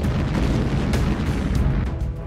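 Heavy missile explosions in Ukraine rumble as a loud, dense low boom, a continuous roar of blasts with sharp bursts layered over it.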